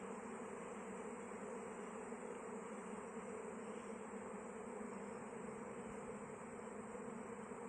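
Dense, steady buzzing of a honeybee swarm, continuous and fairly close, with no pauses or voices throughout.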